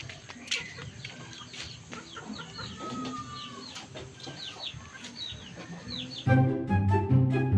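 Backyard chickens cluck and murmur in a loose, irregular chorus nearby, with a louder burst of clucking near the end.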